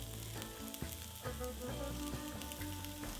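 Young garlic and ginger sizzle in hot sesame oil in a pan, giving a close, steady crackling fry with small pops and stirring clatter throughout.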